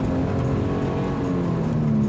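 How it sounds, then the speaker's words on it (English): A 2017 Toyota 86 drives over puddles and wet leaves, heard from inside as a continuous loud engine drone with road rumble and a slight rise in pitch, with no voices. "I'm going through puddles, lots of wet leaves."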